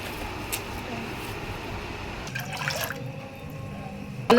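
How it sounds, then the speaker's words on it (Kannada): Water is poured into a pot to start making milk tea in a home kitchen, a soft splashing flow with faint voices in the background. "ಸ್ವಲ್ಪ ನೀರು ಹಾಕಕತ್ತೀನಿ ನೋಡ್ರಿ"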